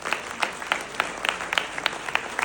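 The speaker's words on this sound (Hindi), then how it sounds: "एक बार इनके लिए जोरदार तालियां" Audience applause at a business seminar in a hall, brisk clapping with distinct sharp hand claps standing out over a steady wash for a couple of seconds, fairly loud and close.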